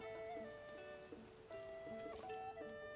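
Steady rain patters in the background of the video game The Legend of Zelda: Tears of the Kingdom while soft, sustained musical tones drift over it.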